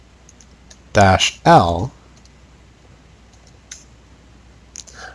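A few light, close keystrokes on a computer keyboard as a Linux command is entered during a system administration session; the sparse, quiet taps follow a short burst of speech and stand alone against a low background hum.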